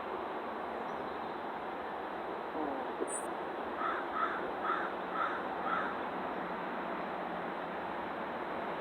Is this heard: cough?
no